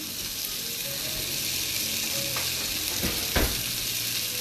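Meatballs sear in a hot pan, giving a steady, close sizzle and crackle that runs the whole time, with a couple of brief knocks or shifts near the end.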